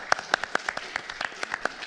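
Scattered hand claps from a small audience in a lecture hall: about a dozen sharp, uneven claps across two seconds, moderately close, with no voices.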